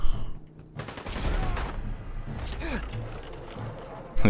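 Gunfire from an unfamiliar weapon in the video game Fallout 4, a run of loud, rapid bursts and clattering mechanical noise over dense game ambience, with a sharp report at the very end.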